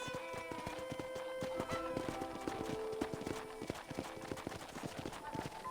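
Horses' hooves clip-clop steadily in the Western video game Red Dead Redemption, a brisk, busy rhythm of hoofbeats over music and ambient game sound, with no voices.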